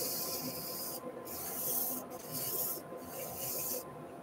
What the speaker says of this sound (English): Just gonna go 400 grit hand